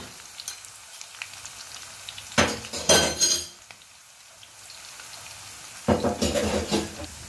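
Brinjal (eggplant) frying in a pan with rough-chopped garlic, with a soft sizzle broken by two loud bursts of metal utensil clatter and stirring against the pan, and no talking.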